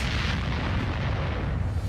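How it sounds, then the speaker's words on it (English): A cartoon explosion effect from the animated series Archer rumbles as a dense, sustained roar with heavy low boom, loud and unbroken for about two seconds with no voices. "Well, not after that explosion"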